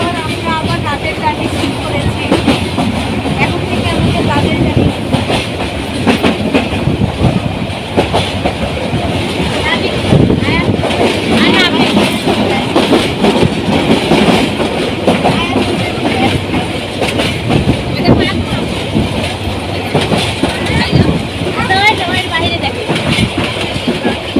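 A passenger train runs along, heard from inside the carriage as a loud continuous rumble with rhythmic wheel clatter, while people talk nearby.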